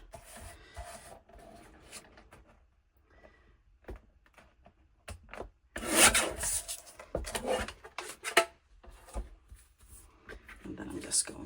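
Polka dot fabric cut with scissors, close rustling and crisp snipping that builds into a dense burst of cloth handling midway, with a voice talking over parts of it.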